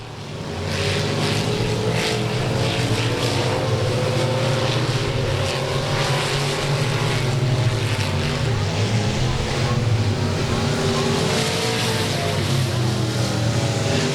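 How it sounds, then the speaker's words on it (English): Race cars lapping the oval at Golden Triangle Raceway Park, a continuous loud roar of engines blending together and holding steady for the whole stretch, without any talk over it. "Seals with a mistake in 3 and 4. That's going to open the door back up for the 138 of Cade Lee"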